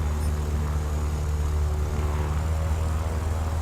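A Yak-9 fighter in War Thunder arcade battle drones along with a steady propeller engine roar, deep and continuous, filling the whole stretch at a constant level without any talking.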